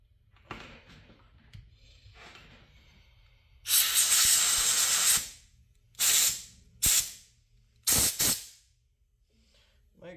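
Compressed air blasts through a Briggs carburetor being cleaned: one long, loud hissing burst, then several shorter sharp spurts, close up with quiet pauses between.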